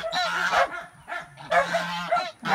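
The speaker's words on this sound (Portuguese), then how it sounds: "Os gansos estão nervosos porque eles estão botando ovo." Nesting geese honk in short loud bursts, a few harsh nasal calls in two clusters with brief gaps, close by and without talking.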